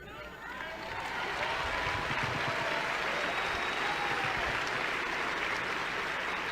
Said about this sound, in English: I wasn't expecting all the clapping.